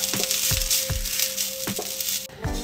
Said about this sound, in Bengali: নারকল কোড়াটাকে একটু ভেজে নেব হালকা বাদামি রং করে।